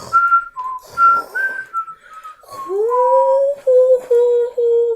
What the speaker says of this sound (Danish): vi er helt mega gode til at fløjte